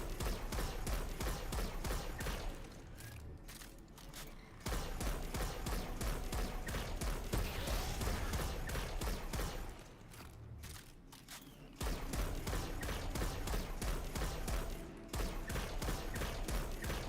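Rapid gunfire rattles in dense, continuous bursts in a video game, loud and close, with brief gaps between volleys.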